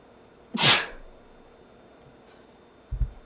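A single loud, close human sneeze bursts out sharply and fades, followed moments later by a soft low thump; no talking occurs.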